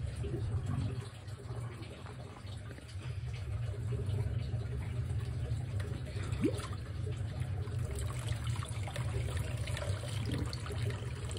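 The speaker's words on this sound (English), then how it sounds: "Stop leaking water." A steady trickle of water leaking from an aquarium canister filter runs continuously under a low hum, with a faint background voice briefly audible.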